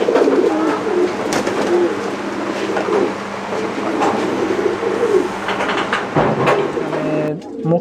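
Mukhi pigeons coo in a room at a pigeon farm, with soft repeated calls from many birds close by and a rustling background throughout.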